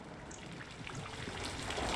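Steady heavy rain pours beside a grimy pool in the horror video game Corpse Party, a dense continuous hiss with scattered drop patter that swells slightly louder toward the end, with no voices.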